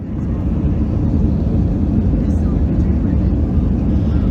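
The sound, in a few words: airplane taking off from Sioux Falls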